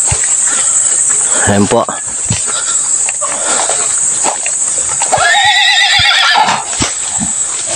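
A horse whinnies loudly nearby, a long shaky neigh, with scattered hoof clops on a road under a constant high insect drone while people speak.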